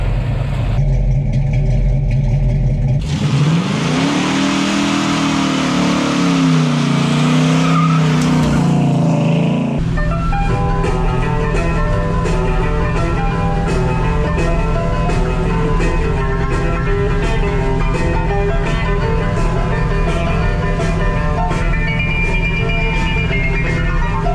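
A 1954 Ford F-100 pickup truck drives on a road, its engine loud and steady, with a rising, revving stretch partway through before it settles into a continuous cruising drone.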